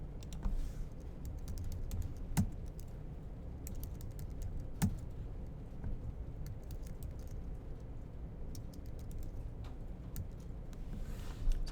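Computer keyboard typing as answers are entered into a JavaScript MadLibs form, with scattered key clicks and a couple of sharper taps over a steady low room hum, no voices.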